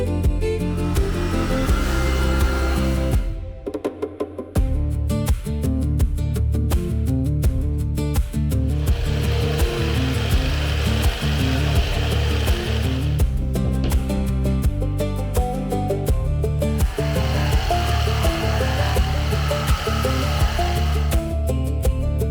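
A large floor sanding machine grinds across a wooden floor during a house renovation on a remote Scottish island, a loud, close, steady drone with rhythmic pulses and one brief cut-out partway through.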